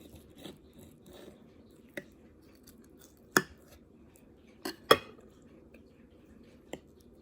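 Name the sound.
cutting hot honey chicken with cutlery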